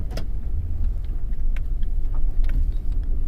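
A 2007 Mercury Grand Marquis with an ABS and traction control fault drives straight ahead, giving a low, steady road rumble and engine drone with faint clicks and rattles from inside the cabin.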